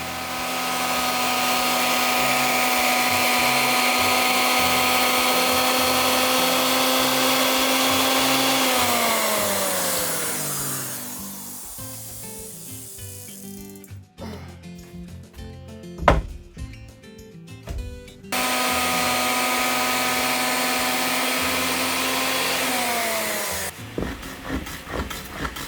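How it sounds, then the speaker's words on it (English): A power router with a round blade whines at a steady pitch, dropping as it cuts a groove into wood for staircase finishing, pauses with clatter, then spins up again. "To do this, I use a round blade to create a single groove."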